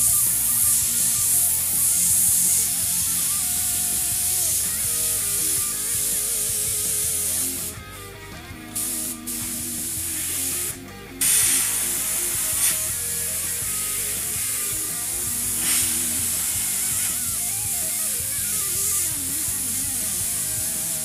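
An airbrush sprays paint in freehand detail work, giving a steady close hiss with a few brief pauses where the airflow cuts out, no talk.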